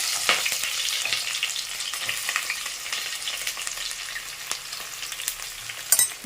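Small onions frying in hot oil with mustard seeds in a home kitchen, a steady hissing sizzle with scattered crackles and pops, close and fairly loud, with no talking.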